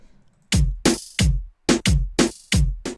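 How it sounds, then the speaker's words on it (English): A reggaeton-style beat with hi-hat rolls plays punchy, loud drum hits with booming low thumps in a syncopated, bouncing pattern, with no voices. "we got some hi-hat rolls."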